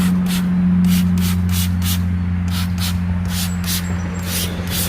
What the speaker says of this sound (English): I'm going to spray some in the barrel here.